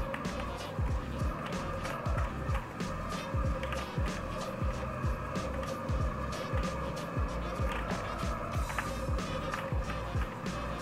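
Car drifting in the video game MTA San Andreas, with engine revs rising and falling in a steady, repeating rhythm and tyre noise throughout, loud and continuous.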